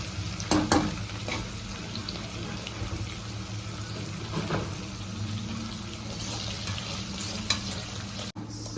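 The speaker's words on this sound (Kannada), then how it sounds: "ಕ್ಯಾಪ್ಸಿಕಮ್ ಸ್ವಲ್ಪ ಎಣ್ಣೆಯಲ್ಲಿ ಫ್ರೈ ಆದಮೇಲೆ" Capsicum frying in a little oil in a pan for masala lemon rice, a soft continuous sizzle with a few louder stirring clatters, close by and without speech.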